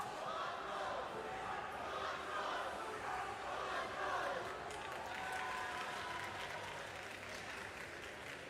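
A crowd cheers and claps in a large arena at a robotics competition, a broad, sustained roar with voices mixed in.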